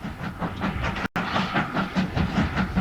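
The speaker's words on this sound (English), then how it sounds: "running a very enjoyable train ride, using this old West Australian W-class loco" Rhythmic clickety-clack of carriages hauled by an old West Australian W-class steam locomotive on an outback railway, steady wheel beats over rail joints with a soft hiss, heard from aboard the moving train.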